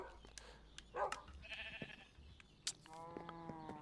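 Sheep bleat on a sheep farm in a VR video game: a few soft, scattered calls early on, then a clear, wavering bleat near the end, against a quiet game background with no talking.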